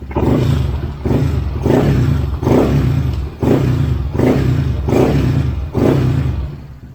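A Honda PCX160 scooter engine with an open throttle body revs hard and close, about seven sharp throttle blips in a steady rhythm that roar up and drop back between bursts.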